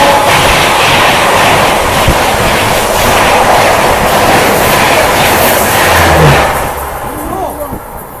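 A Gatimaan Express thunders past at high speed, overtaking from behind: a loud, continuous rush of wheels and rail clatter that fades toward the end, with a voice speaking over it.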